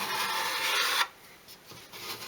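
A blade scrapes excess filler off a 1/12 scale model, a close dry rasping stroke lasting about a second, then stopping abruptly and leaving only faint handling noise.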